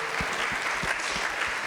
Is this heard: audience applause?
yes